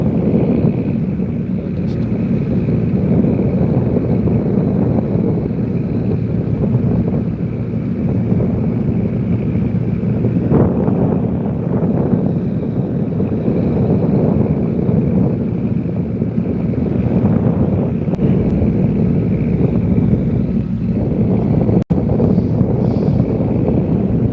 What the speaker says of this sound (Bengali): এই যে ছোট্ট কাঠের টলারটি কিন্তু আমাদের সাথে ছুটে চলেছে